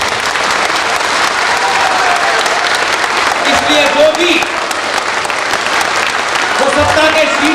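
Steady audience applause at a public talk, a loud continuous clatter of many hands throughout, with a voice speaking over it.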